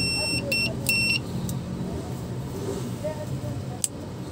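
Several short electronic multimeter continuity beeps sound early on, close and clear, while testing an amplifier, over a rumbling background of road or engine noise, with a voice speaking briefly.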